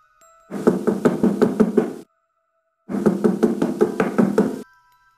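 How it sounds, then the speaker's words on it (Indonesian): Knuckles rap on a beautifully carved wooden door in two loud, close bursts of about seven quick, even knocks each, separated by a short silent pause. "memberanikan diri mengetuk pintu kayu yang diukir indah"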